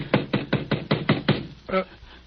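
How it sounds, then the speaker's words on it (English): Door knocking for a 1947 Sherlock Holmes radio drama: seven sharp, evenly spaced raps on a door, followed by a brief voice and a softer thump. "What's that? Someone at the door."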